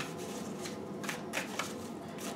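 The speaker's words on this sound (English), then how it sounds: "I think we got to do a couple of these shuffles here." A deck of cards being shuffled during a tarot-style reading, a steady papery riffle with a few sharper bursts of cards snapping together, close and fairly quiet with no talk.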